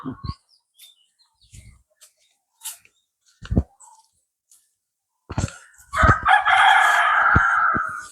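A rooster crows loudly and close, a long harsh call near the end, after a few scattered clucks and chirps in a quiet yard in Jaffna, Sri Lanka.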